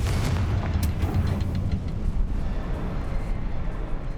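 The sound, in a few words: Confringo explosion spell in the video game Hogwarts Legacy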